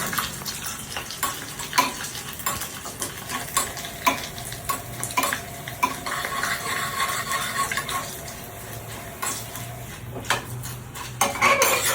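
A curry-leaf tempering being stirred in a pan, with repeated sharp clinks of a spoon against metal over a soft ongoing sizzle, irregular scraping and knocking throughout, close and moderately quiet.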